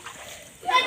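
Splashing in dirty pond water while bathing, a short burst of nearby splashes following faint voices.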